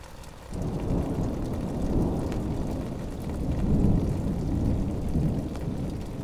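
Thunder and heavy rain from a night thunderstorm pour down near an awning, a dense continuous hiss with deep rumbling swells rising and falling throughout, no voices.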